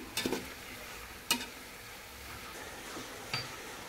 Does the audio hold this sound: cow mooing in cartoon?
no